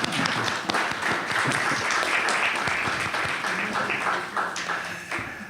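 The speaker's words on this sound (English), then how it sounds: "So I'd like to offer a round of applause for all our women." The crowd at a town council meeting gives a sustained round of applause for the women present. Many hands clap thickly and evenly, with scattered voices mixed in beneath the clapping.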